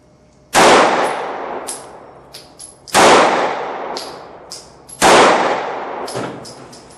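A Keltec PF9 pistol fires three rounds at a target, each a loud, sharp crack several seconds apart with a ringing echo and metallic pings trailing after.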